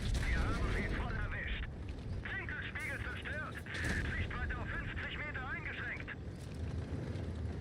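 Tank cannon fire in an armored combat game, with a couple of sharp booming shots against a busy background of battle noise and whistling effects. Voices talk over much of it.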